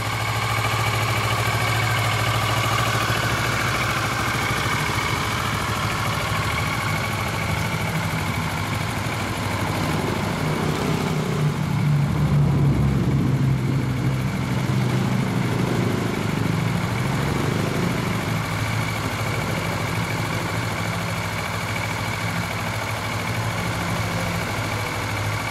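A 2016 Kawasaki Ninja 400 Special Edition motorcycle engine idles steadily for a long stretch, a constant low rumble with a slight swell midway and no talking.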